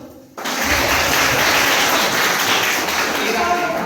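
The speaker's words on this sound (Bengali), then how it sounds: "স্যারের জন্য কোথায় হাত তালি হলো?" A classroom quiz audience breaks into sudden, sustained hand clapping that holds at an even, dense level, with voices mixed into the noise.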